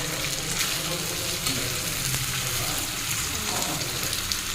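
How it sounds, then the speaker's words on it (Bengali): Chicken pieces fry in hot oil in a pan, a dense, steady sizzle and crackle filling the whole stretch at close range, with faint stirring noises underneath. "এই যে চিকেন রান্না হচ্ছে"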